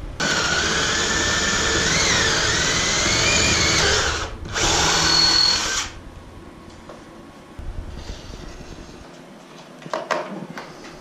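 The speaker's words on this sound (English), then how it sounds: "So I'm gonna drill a hole in the wall, run the cable through" A power drill whines loudly and steadily for several seconds drilling a hole in a wall, with a brief pause, then stops, leaving faint handling clicks and knocks.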